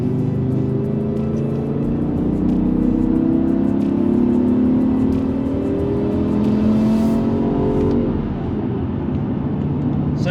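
A BMW V10 engine drives steadily under load, a continuous smooth drone with rising and falling tone as revs change, heard from inside the car over road noise with no talking.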